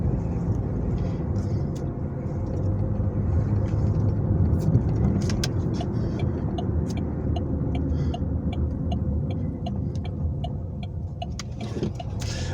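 Steady interior rumble of a car driving along a street, a low continuous engine and road drone with faint ticking, like a turn signal, in the later half.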